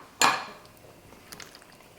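A spoon knocks once against a pot of fish and lentil soup with a sharp, ringing clank, followed by a few faint scraping clinks as the stirring continues nearby.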